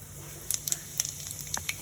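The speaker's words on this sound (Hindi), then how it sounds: "इधर कढ़ाई में भी तेल गरम हो गई है। अब मैं यहाँ आधा चम्मच जीरा डालूंगी।" Cumin seeds dropped into hot oil in a kadai give a faint, soft sizzle with a scattering of small crackles and pops, close by and quiet, with no talking.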